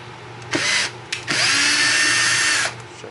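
Power driver backing screws out of a Redcat Gen8 Scout II RC truck, with two short whirring bursts followed by a longer sustained run of about a second, heard up close with no talking.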